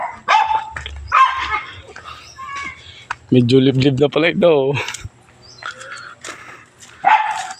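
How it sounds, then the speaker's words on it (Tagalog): Several dogs bark in bursts and yips around a rural pig-raising property in San Pablo, fairly close, with people talking and calling out between the barks. "Ayun, ang daming aso pala dito."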